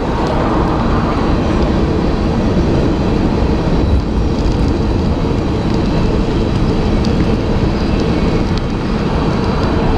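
A train rolls past up close, a loud, steady broadband rumble and rush that holds unbroken for the full duration, with no voices over it.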